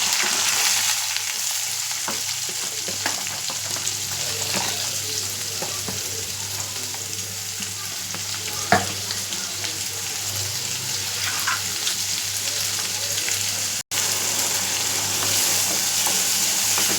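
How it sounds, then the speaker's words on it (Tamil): Chopped shallots frying in hot oil with mustard seeds and cumin, a continuous bright sizzle with occasional stirring scrapes and pops, close and steady with no talking. "சீரகம் போட்டோடனே சின்ன வெங்காயம் வெட்டி வச்சுருக்கிறேன், அதையும் போட்டுக்கிறேன்."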